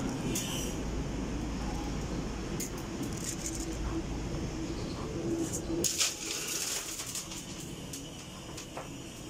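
Pigeons coo steadily inside a loft, low soft calls repeating under a constant rumbling background, with a few sharper knocks and rustles near the end.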